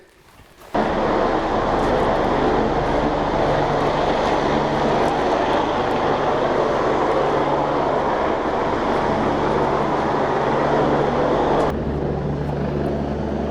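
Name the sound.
helicopter hovering, echoing off valley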